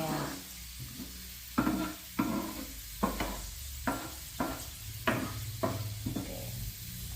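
Sliced shallots frying in hot oil in a pan give a steady sizzle, with a spatula scraping and stirring in regular strokes about every half second.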